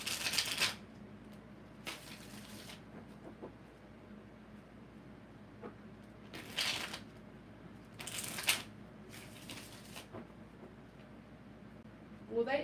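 Tarot cards are shuffled several times, each burst a crisp riffling rustle lasting under a second, separated by quiet room tone with faint background hum.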